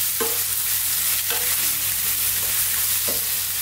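Onions and garlic fry in a pan, giving a loud, steady sizzle while a utensil scrapes through them a few times at irregular intervals.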